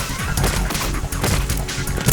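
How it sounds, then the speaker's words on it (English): Gunfire in the Metal Gear Solid 2 Vamp boss fight: loud, dense cracks and thuds in a rapid burst over a busy, continuous game soundscape, with no talking. "Fine, I'll shoot him."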